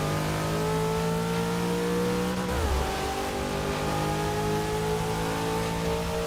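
In the Forza 6 racing game, a 2002 Nissan GT-R engine revs and accelerates, its harmonic drone climbing in pitch, dropping briefly at a gear change, then rising again, loud and continuous.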